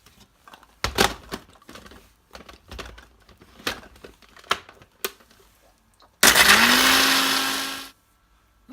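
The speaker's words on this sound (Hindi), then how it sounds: "इसको पूरा बारीक करके लेते हैं पूरा मिक्सर में।" A mixer grinder blitzes Bourbon biscuits into powder in a short, loud whirring burst after a series of knocks and clatters as the jar is loaded, the motor pitch rising then winding down.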